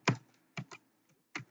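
A computer keyboard being typed on while writing JavaScript code, with a few separate clicky keystrokes and a quick double tap amid quiet gaps.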